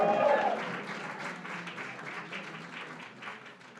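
A crowd at an election watch party applauds a retiring county legislator, with steady clapping that starts strong and slowly fades, and a brief voice near the start.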